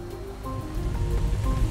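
Rain drums on the roof of a petrol-engined Volkswagen Transporter T6 Kombi van while it is driven. A dense, close patter rises over a low, steady engine and road hum, with no voices.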